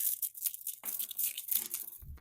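A person vocally imitates gemstones, pearls and beads clinking together, producing short crinkly, crunchy clicks and rustles close to the mic, ending with a brief low thump.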